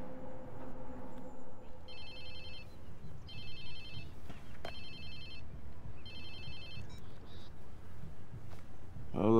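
A phone rings repeatedly in the Watch Dogs 2 video game, four evenly spaced electronic trill bursts, clear and moderately loud over a low background hum.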